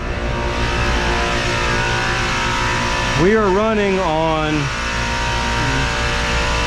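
A large Engineered Air rooftop unit with four of six compressors running and two failed roars with a loud, steady hum close by while someone talks over it briefly.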